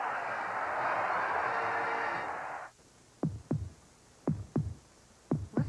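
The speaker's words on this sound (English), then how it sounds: "Listen to the heartbeat." Heartbeat sound from a 1986 Chevy TV commercial aired during a college football broadcast: a burst of hissy static gives way to three pairs of deep, muffled lub-dub thumps in a steady rhythm.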